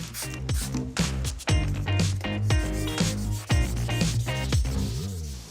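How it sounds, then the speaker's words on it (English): VW Golf headlight being sanded by hand, a close rhythmic rasping rub in repeated strokes, loud and continuous with no talk. "So now the headlights are sanded back"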